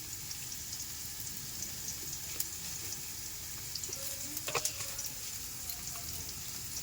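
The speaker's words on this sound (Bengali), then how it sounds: "শুকনো লঙ্কা দেওয়া হবে তেলের মধ্যে দিলাম একটা শুকনো লঙ্কা একটু পাঁচ ফোড়ন" A dried red chili and panch phoron five-spice fry in hot oil while dal is tempered in a rural home kitchen. A faint, steady sizzle crackles quietly throughout.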